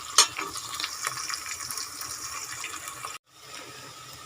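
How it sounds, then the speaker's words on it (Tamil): Onions and curry leaves sautéing in a pan for fish curry, giving a steady sizzling hiss with a sharp crackle near the start and a brief break before the sizzle resumes. "வெங்காயம் கருவேப்பிலை ரெண்டுத்தையுமே சேர்த்து நல்லா வெங்காயம் பொன்னிறமாக வதக்கி எடுத்துக்கலாம்."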